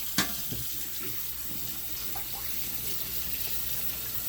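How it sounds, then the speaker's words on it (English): Hot water runs steadily from a kitchen tap into a sink while sodium-free meat is being prepped, a continuous close splashing hiss with a brief clack near the start. "So we got hot water going."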